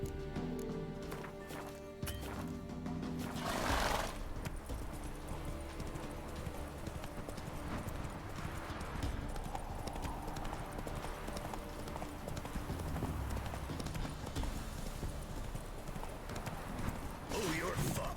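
Horse hooves clip-clop steadily through The Witcher 3, a continuous trotting rhythm at close range with an occasional whinny, while someone talks loosely over the game sounds.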